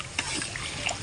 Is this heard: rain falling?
no